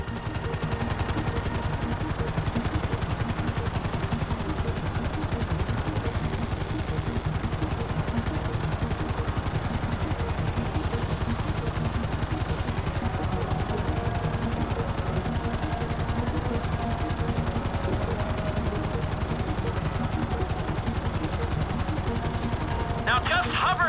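Helicopter hovering in GTA 5 over a large hole at a vault survey site, a steady dense rotor roar filling the whole stretch with constant loudness and a busy game soundscape layered over it.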